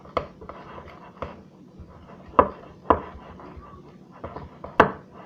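Homemade slime being mixed with flour in a bowl, with repeated irregular knocks and scrapes of the utensil against the bowl, close and fairly loud.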